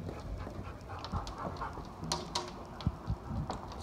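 A dog pants steadily in a home, quick breathy huffs running through the whole stretch with a few louder snorts and small sounds mixed in, close by and moderately loud.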